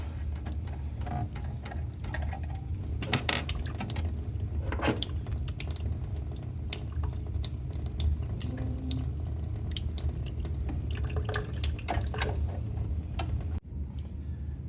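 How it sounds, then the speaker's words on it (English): Water draining from the boiler of a Quick Mill Vetrano 2B Evo espresso machine, a steady close trickle and spatter with scattered drips and small clicks, continuous for many seconds before cutting off abruptly near the end. "We're going to let the water run out."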